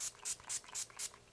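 Toner misted from a spray bottle: five quick, hissy pumps in a steady rhythm, close and fairly soft, with no voices over them.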